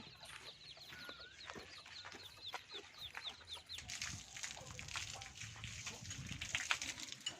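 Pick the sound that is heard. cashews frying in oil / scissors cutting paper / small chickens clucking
small chickens clucking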